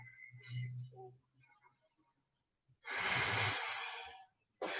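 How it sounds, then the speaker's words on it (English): A deep breath during a yoga session, first a soft drawn-in inhale, then after a pause a long, loud, breathy exhale close to the microphone, with another breath beginning at the end. "take one more full breath"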